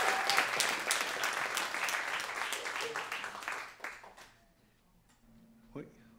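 Applause from an audience at an album launch, a dense wash of clapping that holds for about four seconds and then fades out, followed by quiet room sound with a faint brief noise near the end.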